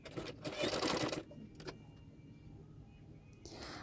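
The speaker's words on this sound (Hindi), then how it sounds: "अभी उसको इस तरह से फोल्ड करते हैं और एक सिलाई डाल दूंगी मैं" A sewing machine stitching a blouse whirs in one loud, fast burst for about a second, then stops, leaving a quiet room with a few faint clicks and a brief mechanical sound near the end.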